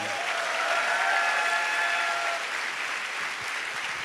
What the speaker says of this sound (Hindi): थोड़ा मनोस्विनी के लिए जबरदस्ती ताली हो जाए पहले।